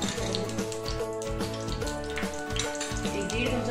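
Cooking oil sizzles on a hot iron tawa over a gas flame for tomato chutney, a steady close crackle with light taps and stirring scrapes of a spoon against the pan.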